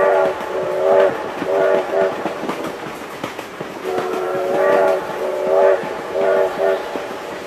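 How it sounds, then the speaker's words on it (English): A passing train sounds its horn in repeated two-tone blasts, loud and near, over a rolling clatter of wheels on track, with a voice exclaiming in between. "Oh my God, train!"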